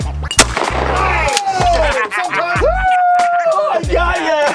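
Benelli Super Black Eagle 2 shotgun firing at sporting clays outdoors, with several sharp, loud reports spaced across the moment while people shout and talk over the shots.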